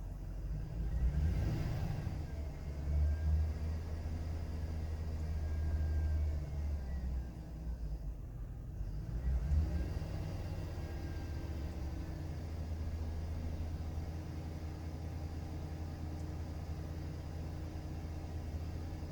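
A 2005 Chevrolet Silverado truck, just fitted with new camshaft and crankshaft sensors and still running rough, rumbles low and steady from inside the cab as it is driven, with a couple of swells in engine noise early on.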